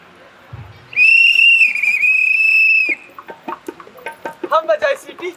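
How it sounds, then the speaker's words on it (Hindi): A whistle blown once in a single sustained, loud, shrill blast lasting about two seconds, followed by scattered clicks and rustling noises. "हम बजाए सीटी"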